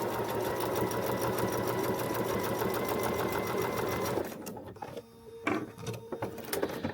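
A sewing machine stitching a feathered star quilt block, a fast steady run of needle strokes, loud and close, that stops about two-thirds through and gives way to quieter handling clicks and rustles.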